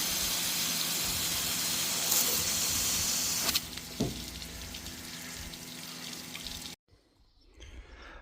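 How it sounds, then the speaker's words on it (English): A steady hiss of clean water spraying through crop sprayer nozzles with a pump humming underneath, a few clanks partway, then the spray stops abruptly. "it's pushing clean air or clean water through our nozzles"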